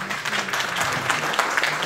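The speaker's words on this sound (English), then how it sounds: "ASIS, you deserve a big round of applause." Brief burst of audience applause at an HR professionals' meet in a college auditorium, a dense crowd clapping at even loudness, with faint speech and room sounds mixed underneath.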